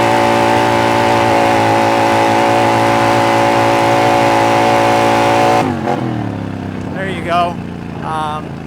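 Polaris Sportsman ATV fitted with an MBRP slip-on exhaust held at wide open throttle, a loud steady droning engine roar that cuts off abruptly, then a quieter idle with faint voices talking over it.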